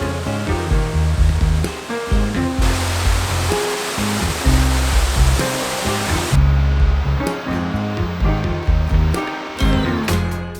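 Loud, continuous rush of Tokopah Falls in Sequoia National Park, a dense roaring wash of water that holds steady throughout.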